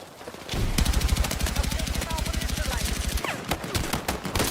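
Rapid automatic gunfire from the video game Battlefield 6, a long steady burst of close, loud shots followed by a few scattered single shots, with faint voices underneath.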